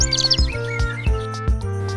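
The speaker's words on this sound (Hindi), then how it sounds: "ये है कैनरी। कैनरी को हिंदी में कैनरी कहते हैं।" A canary, a small songbird, gives a few quick high chirps at the start, then falls quiet beneath a steady, louder musical backing with low sustained tones.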